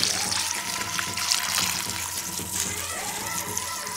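Water mixed with turmeric and camphor pours steadily from a large vessel, a continuous loud gushing splash with a faint voice beneath it.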